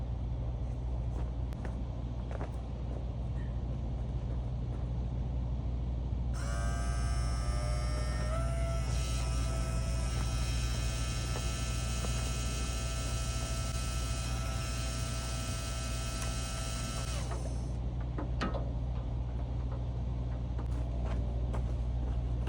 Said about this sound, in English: Let's go ahead and test this pump.